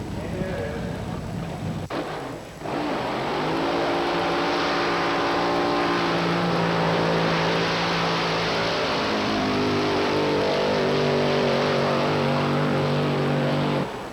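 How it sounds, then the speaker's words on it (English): A vintage drag racing car at a 1987 nostalgia drag racing event makes a run; a loud, sustained engine roar with rising tones builds after a brief pause near the start and dominates the whole clip. "After we watch Art Chrisman make the last run of the day"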